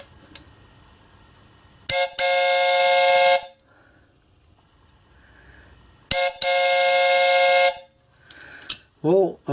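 Chime whistles on a miniature steam locomotive blow two long, loud, steady chords, each about a second and a half, separated by a quiet pause with faint hissing. A short warbling tone follows at the end.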